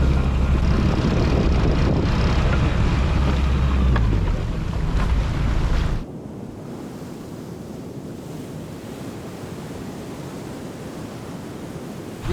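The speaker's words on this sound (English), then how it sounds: "We are out sailing with Tessie's new colors, and it's amazing out there." The sailboat Tessie heels through big swells in stiff wind. Loud, steady rushing of wind and water fills the first six seconds, then settles into a softer, continuous wash of waves and breeze.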